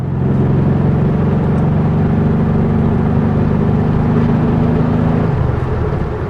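A 1974 VW Beetle's air-cooled engine and quiet, subtle exhaust drone steadily on a test drive, a low sustained hum that holds even for about five seconds before its pitch shifts as the car changes speed.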